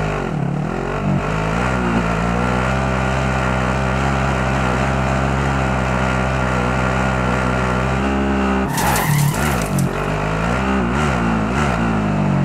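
Vehicle driving in Call of Duty Modern Warfare battle royale, a steady loud engine drone holding constant, interrupted near the end by a sharp burst of noise before the motor carries on.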